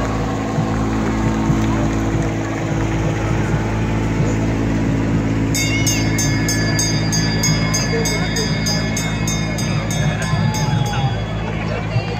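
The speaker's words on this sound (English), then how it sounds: "Now we got the magical train." A parade float built as a train passes during the Pro Football Hall of Fame Grand Parade in Canton, its steady engine rumble mixed with crowd murmur. Repeated electronic beeping chimes join partway through.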